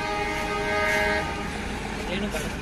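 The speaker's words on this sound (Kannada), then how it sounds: "ಕೆಳಗಡೆ ಟ್ರೈನ್ ಹೋಯ್ತಾ ಇದೆ" A train passing below in the Ooty hills sounds a sustained tonal horn for about a second over a distant, steady rolling rumble, heard from high above.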